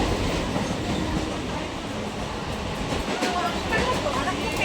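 A passenger train runs on rails with a dense, continuous rumble and faint clickety-clack, heard from inside a carriage.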